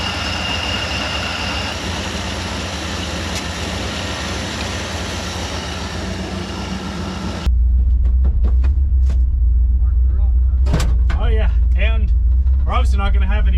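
An abandoned Ford F100 truck, left sitting in a forest for over 25 years, runs with a loud, steady low engine rumble that fills the clip, and voices talk over it.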